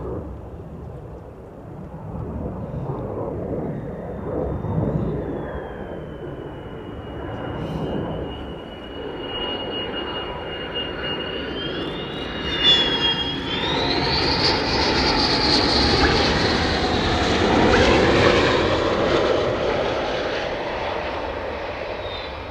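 Fighter jets of the 48th Fighter Wing passing overhead, a long swelling roar that builds from a distant rumble to a loud broad blast with a rising whine, then slowly fades.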